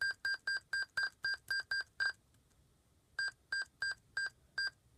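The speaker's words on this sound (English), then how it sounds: "Now I got a beeping noise." Computer beeping after F6 is pressed at a disk read error screen: a quick run of eight short, evenly spaced electronic beeps, a brief pause, then five more, clear and moderately loud with no talking.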